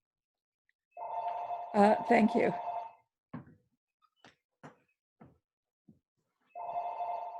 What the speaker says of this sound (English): can you kill that phone?